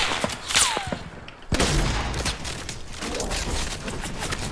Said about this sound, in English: they're shooting him right here